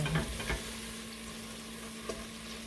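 Cast iron Dutch oven being deglazed while making beef stew, giving a steady low sizzle with a few brief stirring scrapes near the start and one faint clink later.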